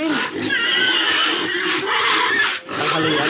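Pigs on a backyard farm squeal and grunt loudly at feeding time, a continuous, crowded chorus of shrill cries with brief dips, close by and with no talking.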